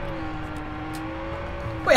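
In the Watch Dogs multiplayer game, a car engine hums steadily while the car pulls away, then briefly surges louder at the end, with no talk over it.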